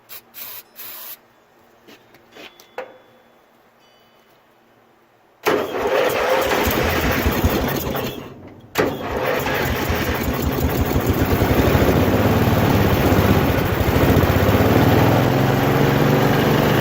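A Montgomery Ward riding mower with a jumper-cable battery, a few faint clicks and then the starter cranking, the small engine catching, briefly cutting out, then restarting and running steadily at close range, loud and rough, with no talk.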